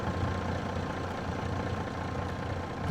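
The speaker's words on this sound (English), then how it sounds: "trying to get away from the truck because that's so loud." A truck engine idles loudly and close by with a steady low rumble at a dairy farm site, the note holding constant without revving.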